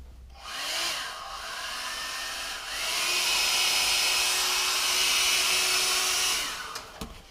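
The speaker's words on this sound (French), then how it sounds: "On fait sécher au sèche-cheveux." Hair dryer blowing to dry alcohol ink on Yupo paper, a steady loud whooshing drone with a shifting whine that runs for several seconds before cutting off.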